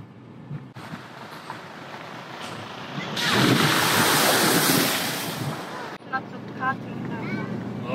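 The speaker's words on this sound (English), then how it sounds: "Water over road? What the heck?" A car drives through water flowing over a road during a forest road trip near Cardwell, with a loud rushing surge of splashing in the middle, softer water and road noise on either side, and voices talking inside the car.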